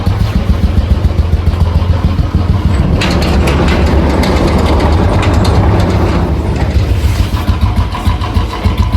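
A motorcycle engine idles loudly and steadily up close after a cold start, a throbbing low rumble that holds even throughout, with a brief rev partway through.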